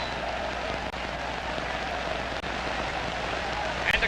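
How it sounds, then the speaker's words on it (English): A predominantly Canadian crowd roars at the 1955 World Amateur Hockey Championship game between the Penticton Vees and the USSR, a dense, steady wash of cheering that holds evenly throughout. "And the crowd, which is predominantly Canadian here, judging from the noise they're making, got a great kick out of that last little flurry of activity."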